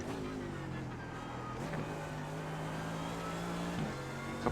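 GT3 race car engines, including Lamborghinis, droning and shifting through gears at Road America in iRacing, a sustained steady engine tone with brief gear changes, fairly quiet.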